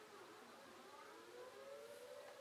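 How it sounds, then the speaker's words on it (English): A civil defense alarm siren sounds during a test, a faint, distant rising and sliding wail that carries steadily through the whole stretch with no talk. "That's the alarm."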